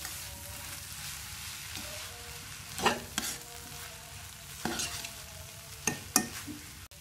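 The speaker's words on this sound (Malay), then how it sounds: "Ni kita gaul." Carrots and other vegetables sizzle steadily in a hot pan with oyster sauce while a utensil scrapes and stirs them in a few sharp, intermittent strokes, close up and without speech.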